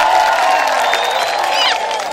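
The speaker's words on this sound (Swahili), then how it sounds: "Hebu pigeni Bwana makofi." A church congregation claps and cheers in praise, a loud, continuous wash of crowd noise with whoops and scattered voices, fairly close and filling the space.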